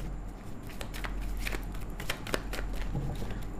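A tarot card deck is shuffled in a run of quick, crisp riffling flicks and snaps over a steady low hum, close and fairly quiet with no talking.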